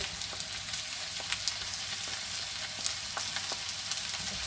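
Rabbit pieces fry in a pan for a mustard rabbit dish, a steady close sizzle with scattered small pops and crackles, with no voices over it.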